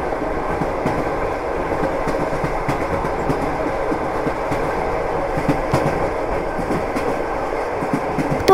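A train runs in the sandbox video game Melon Playground, rolling with a steady rumble and rhythmic clickety-clack of wheels on rails throughout, and no voices.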